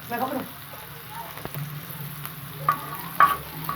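Garlic and ginger frying in a pan, a soft, steady sizzle with light stirring and a few scraping clicks, fairly quiet, with a brief voice at the start.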